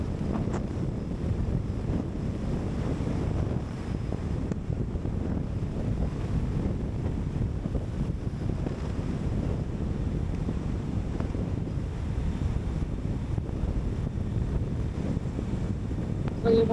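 Riding a River Indie electric scooter in rush mode, with a steady loud roar of wind buffeting the microphone throughout and no voices.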